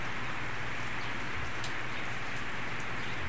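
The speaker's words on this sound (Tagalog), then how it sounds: "Umuulan na." Steady rain pours down, a dense, even hiss of drops hitting a surface with no break throughout.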